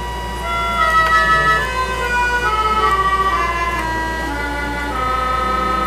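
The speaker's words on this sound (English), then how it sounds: "And the Aeolian harp 2-foot." A sustained, bright reed pipe organ tone from the Aeolian harp 2-foot stop, with a wavering, pulsing tremolo, notes shifting slowly over a steady low drone; no voices.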